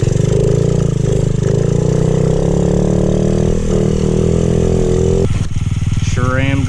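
A Honda XR50 dirt bike runs with a loud, steady mid-pitched engine drone close by, dipping briefly before a rising rev near the end.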